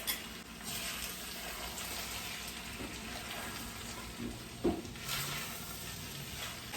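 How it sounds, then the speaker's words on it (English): Eggs frying and being stirred into homemade vegetable fried rice in a pan, a soft, steady sizzle with a few faint scrapes and clicks. "Now I'm going to add my eggs. And mix that in."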